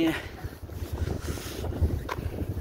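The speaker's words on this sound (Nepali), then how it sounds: "घुम्ने डुल्ने क्रममा चाहिँ एकदम चिसो हावा चलेको छ" Gusty, cold wind buffets and rumbles against the microphone, low and uneven, rising and falling in waves throughout.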